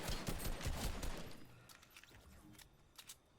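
Bursts of gunfire from bots in the video game Fortnite Battle Royale, a dense rapid volley of shots in the first second and a half, then scattered fainter pops.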